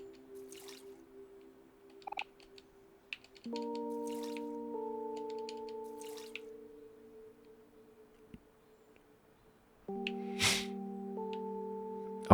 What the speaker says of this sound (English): I gotta water their plants.